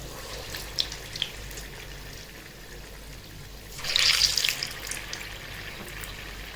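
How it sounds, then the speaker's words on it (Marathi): Gulgule, sweet fritters, deep-frying in hot oil until reddish-brown, giving a soft steady bubbling that swells into a louder, brighter sizzling burst partway through, with no talking. "लालसर कलर होईपर्यंत तळून घ्यायचे छान असे गुलगुले."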